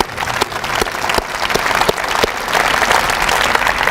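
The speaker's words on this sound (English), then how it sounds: "can we just give him a round of applause for everything he's doing?" An audience at a building dedication ceremony for an academic facility applauds steadily, dense clapping holding at a loud, even level throughout with no speech over it.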